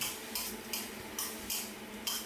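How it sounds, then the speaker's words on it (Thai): Fried eggs and holy basil sauce are tossed together in a pan over high heat, giving a faint steady sizzle broken by soft periodic scrapes of a spatula about every half second, with no voices. "ใช้ไฟแรงๆผัดไม่ต้องนานคลุกแค่พอโดนชิ้นไข่ดาวทั่วๆนะครับ"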